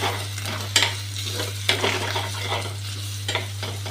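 Eggs frying in a pan for an egg chutney, stirred with a utensil: steady close sizzling with several sharp scraping strokes against the pan and no talking.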